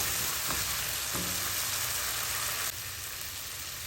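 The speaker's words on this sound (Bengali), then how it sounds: "মশলাটা আমার অলমোস্ট কষানো হয়ে গেছে।" Masala spices frying and being stirred in oil in a pan for raw banana curry, a steady close sizzle with a few soft stirring scrapes, running alone without talk.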